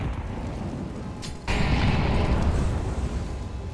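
Grenades blasting in Counter-Strike during a competitive match: a continuous noisy rumble jumps to a louder, dense explosive burst midway and rolls on with heavy low-end crackle.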